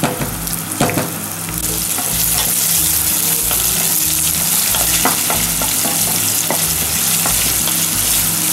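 Asparagus, mushrooms and shrimp sautéing in olive oil in a pan for risotto, a loud, close, continuous sizzle with frequent stirring scrapes and a few clacks of the utensil against the pan.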